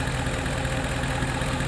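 A Ford F-150 with the 4.6 V8, fully warm, idles close by with a steady, even low rumble and a faint rhythmic pulse, no voices over it.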